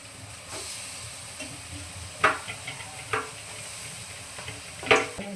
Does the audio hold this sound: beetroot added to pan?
yes